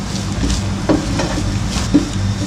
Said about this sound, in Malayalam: ഇതൊരു ഗോൾഡൻ കളർ ആവുന്ന വരെ വറുത്തെടുക്കണം.